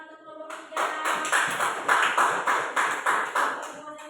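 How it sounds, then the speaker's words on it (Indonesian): Elementary classroom pupils clap together for a presenting group in quick, loud, rhythmic bursts after a brief pause, a voice faintly audible before the clapping starts. "beri tepuk tangan untuk kelompok 3"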